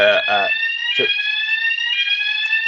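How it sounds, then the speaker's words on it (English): A home fire alarm sounds continuously, loud layered high electronic tones holding steady throughout, with a brief bit of speech at the start. "that's a fire alarm at my place."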